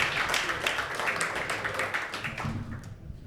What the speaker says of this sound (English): another round of applause for Andy, Nima, and Nils.